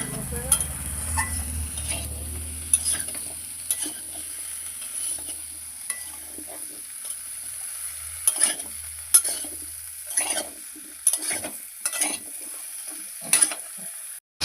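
A utensil stirs cut pumpkin, Malabar spinach and potatoes with spices in a pan, giving intermittent scrapes and soft sizzling over a steady low hiss.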